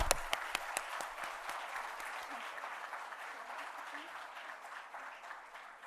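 An audience at the Devi Awards ceremony in Chennai breaks into sustained applause, dense clapping from many hands that starts with a few sharp claps and holds steady, fairly close and loud throughout.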